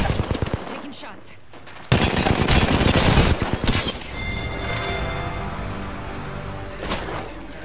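Gunfire in the battle royale game Apex Legends, a burst of dense weapon shots over busy game audio, followed by steadier combat noise and a few sharp reports.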